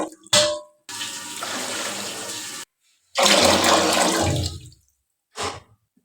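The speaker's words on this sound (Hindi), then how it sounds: "मैंने 6 गिलास इसमें पानी डाला है" Water gushes loudly into a pot of soaked rice in two long pours, with short splashes between and after them.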